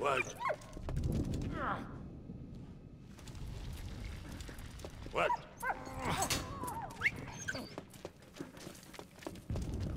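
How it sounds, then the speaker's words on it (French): A dog in a First World War video game yips, whimpers and gives short barks, scattered among game sounds at moderate loudness. "Voilà, ça c'est un bon chien."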